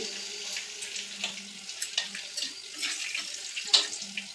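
Small fish roe fritters frying in oil, a continuous fine crackling sizzle with irregular pops and bubbling at moderate volume, heard alone without speech.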